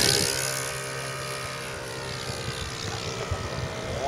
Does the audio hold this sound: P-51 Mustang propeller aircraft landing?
yes